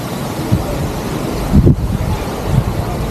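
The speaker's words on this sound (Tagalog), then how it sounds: "Yun, lakas pa rin ng hangin ngayon." Strong typhoon wind from Typhoon Uwan roars steadily across a microphone in Pangasinan, a constant loud rush with a heavier buffeting gust midway and smaller bursts around it.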